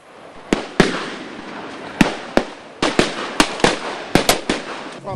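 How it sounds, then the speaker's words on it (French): Gunfire exchanged during a military officer training exercise on open mountainous terrain, heard as sharp, loud single shots in an irregular rhythm, a dozen or so cracks with echoing tails. "Ces échanges de tirs sont un des exercices pratiques des stagiaires de l'École nationale des officiers de TOFO"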